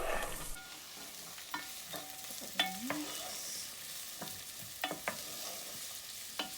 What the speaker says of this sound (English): I've just had the onions sauteing on their own for about 4 to 5 minutes or so